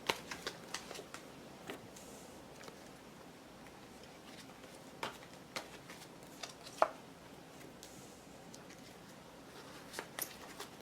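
Tarot cards get shuffled and pulled, with soft rapid riffling and pattering broken by sharper taps and flicks, close and quiet, continuing steadily with no speech.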